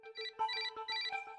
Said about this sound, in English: His phone starts ringing almost immediately.